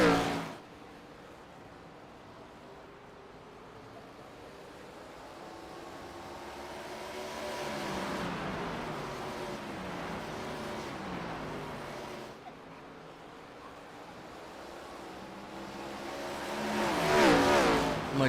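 Race cars battle for the lead on the short oval at Nashville Fairgrounds, engines rising and falling in two distant passes that swell and fade, with a faint roar carrying across the track.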